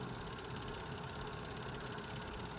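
L&N 152 steam locomotive creeping slowly over a soft-ground derailment spot, giving a steady, continuous mechanical rumble and hum with a broad hiss, held at an even level throughout.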